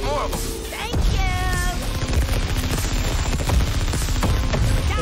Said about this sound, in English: It's just bullet hell, dodge bullets.